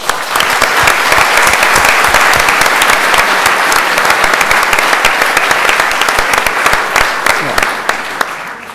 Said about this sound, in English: I would like to thank, with a warm round of applause, the Rode Hoed here, and Aminata Kone